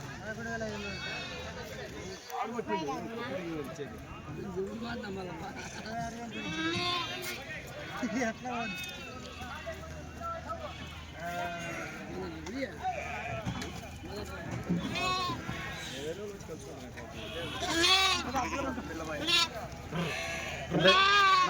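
Sheep bleat repeatedly amid busy chatter from several people at a weekly sheep market in Kadiri, a crowded outdoor scene with animals calling near and far.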